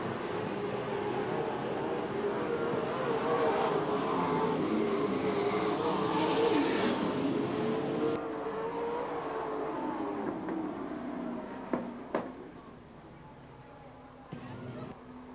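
Grand American Modified race cars at Watsonville Speedway run down the back straightaway, a continuous engine drone that swells and fades under a track announcer's voice, with a couple of sharp knocks near the end.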